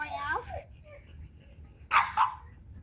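Two or three sharp dog barks at pigs nearby, close by, with a voice speaking just before them.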